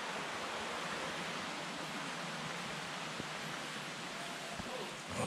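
A river flows through Tregargus valley in Cornwall, a steady broadband rush of water that stays even and close throughout, with a few faint knocks near the end.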